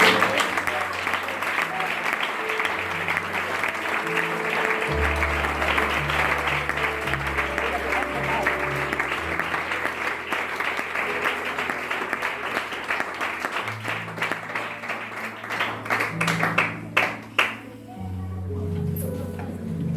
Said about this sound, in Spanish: Vamos a aplaudirle a tu Dios.